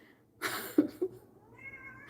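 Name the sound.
pet cat meowing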